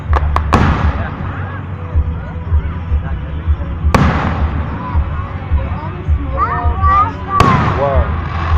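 Fireworks burst in several sharp, loud booms spaced a few seconds apart, each followed by crackling decay, while people talk and exclaim over the display.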